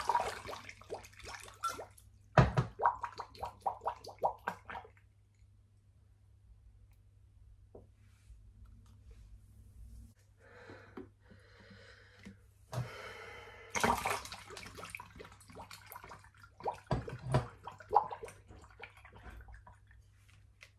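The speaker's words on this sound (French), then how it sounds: "Je remets de l'eau dans le fond de mes bacs à baby." Water is poured into the bottom of seedling trays resting on a heating mat, with soft, quiet splashing and trickling in intermittent bursts amid handling noises and breathing.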